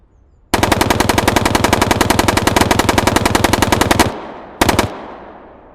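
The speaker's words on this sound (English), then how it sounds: "that SATYR rifle, the AK-74, on full auto at a closer range" SATYR AK-74 rifle in the video game Bellum on full auto at close range: one loud, dense burst of rapid shots lasting several seconds, then a brief second burst, with a fading echo after.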